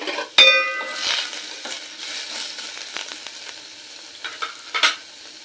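Sabudana with chopped tomato being stirred in a hot pan, a sharp metallic clink at the start, then soft sizzling and intermittent scraping strokes of the spatula, fairly close.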